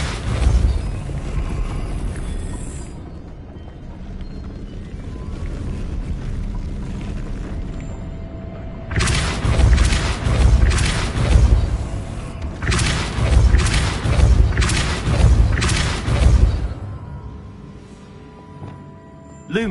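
Repulsor spell blasts in Hogwarts Legacy land in two heavy clusters of booming, whooshing bursts after a quieter stretch of low ambient rumble, with no talking.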